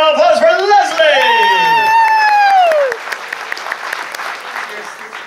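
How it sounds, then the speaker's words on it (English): Audience applause at a show aboard the cruise ship Island Princess, a loud voice whooping over the crowd before a dense wash of clapping carries on steadily, with some cheering mixed in. "Leslie, have a round of applause for Leslie!"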